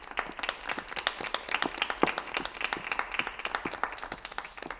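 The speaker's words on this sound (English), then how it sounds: "Can we have a round of applause, please?" A small audience applauds at a live magic act, a quick burst of many hands clapping unevenly for a few seconds at moderate distance, with no talking over it.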